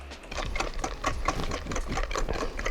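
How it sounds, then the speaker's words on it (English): Egg yolks and sugar whisked by hand in a bowl for eggnog, a fast rhythmic clicking and tapping that runs steadily throughout, close up with no talk. "So now we're gonna whisk our egg yolks and sugar. Hear that?"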